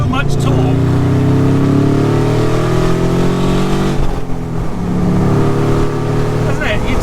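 Loud, close engine note of a Fiat 500 fitted with a 170 hp Subaru engine, pulling hard with a rising tone, briefly dipping midway before climbing again, while people talk inside the car.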